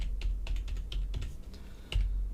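Typing on a computer keyboard, a quick irregular run of close, crisp key clicks over a low background hum, with no talking.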